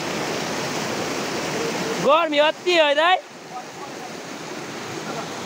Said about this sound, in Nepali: यो चाहिँ हाम्रो फेरि टक्क सँगसँग बज्दै गरेको ताखोला